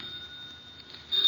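A telephone bell rings faintly in an old radio drama, a steady tone that swells louder near the end of the short moment.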